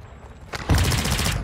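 Gunfire erupts in Call of Duty DMZ, a close burst of rapid rattling shots that breaks in after a quiet moment and continues loud and sustained, with a sharp crack just before the volley.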